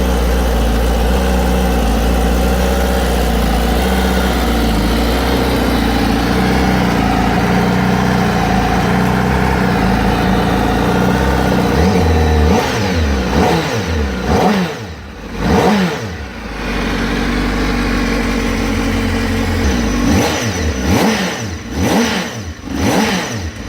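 A 2020 Honda Fireblade motorcycle engine holds a steady, close idle, then fires off a series of quick, snappy revs that climb and fall back repeatedly, with no voices.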